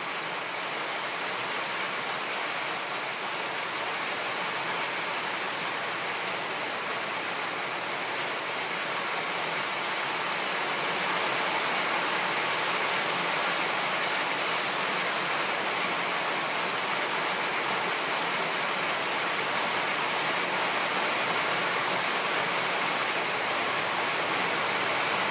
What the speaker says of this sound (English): I'm in a tin shed, so it's pretty loud when it rains.